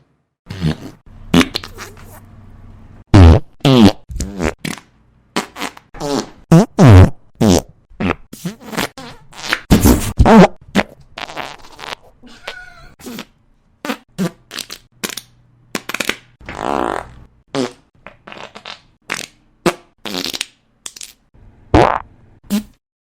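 A novelty track built from 235 recorded farts strung together, with rapid bursts of varied flatulence sounds, some short and sputtering, others long and rumbling, following one another in an irregular rhythm with brief gaps between.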